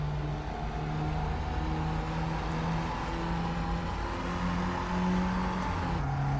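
Race car engine in the AC Evo racing video game, revving steadily with rising and falling tones as revs build toward gear changes, a continuous whirring drone at moderate level with no talking.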